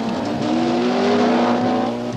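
A Chrysler rally car races flat out along a stage of the 1979 Scottish Rally, its engine note loud and close, climbing steadily in pitch as it accelerates away with no one talking.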